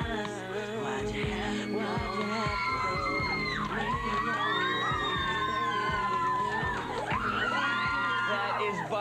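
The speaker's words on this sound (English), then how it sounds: "By far the loudest screaming we have ever had in the You Pick Lounge" A studio audience of children at a live kids' TV show screams, whoops and cheers loudly and continuously, a dense crowd roar with shrill rising shouts throughout.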